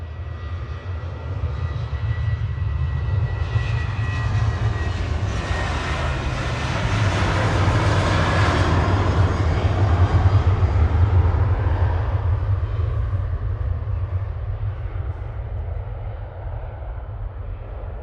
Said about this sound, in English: Departing now, though. Ryanair to Brussels Charleroi, flight 3238, 9H Quebec, 737-800.